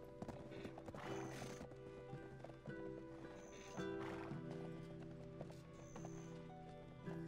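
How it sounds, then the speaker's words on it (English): In Black Desert Online a horse neighs and its hooves clip-clop with game music playing underneath, several whinnies spread across the scene. "that's not your donkey, that's a horse"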